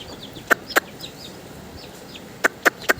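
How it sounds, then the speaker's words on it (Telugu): Backyard chicks and a hen being fed rice let out short, sharp peeps and clucks in quick clusters of two or three, nearby and clear over a quiet outdoor background. "నేను మా కోడి పిల్లల్ని ఎలా పిలుస్తాను, వాటికి నేను ఎలా ఫుడ్ ఇస్తాను"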